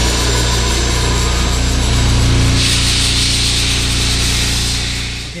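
A bolt being sandblasted for restoration gives off a loud, continuous, close-up hiss that holds steady and tails off at the very end.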